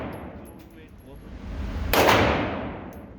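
A single loud gunshot cracks out at the Blackhawk shooting range midway through, its burst ringing off over a steady low rumble of background noise.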